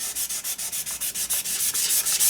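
Weathered paint on a Qualcast Classic 35s lawn mower is rubbed down by hand. About a dozen quick, even abrasive strokes sound close and loud in a steady rhythm, with no talk.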